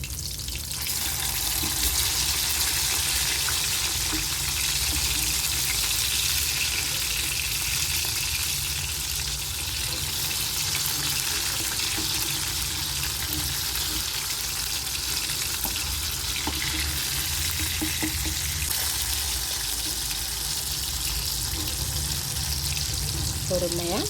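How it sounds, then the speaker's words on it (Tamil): Fish masala frying in a pan over a low flame, giving a continuous bright sizzle that holds steady throughout with a faint low hum beneath. "அந்த சைடு நல்லா வேகட்டும். லோ ஃப்ளேம்லேயே வச்சு பொறுமையாக இந்த சைடும் ஃப்ரை பண்ணி"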